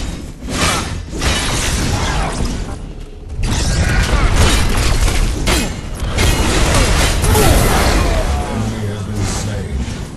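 An enemy tower collapses in the Paragon video game on PS4, giving loud, crashing, shattering booms with mechanical rumble that roll across several seconds, partly under speech.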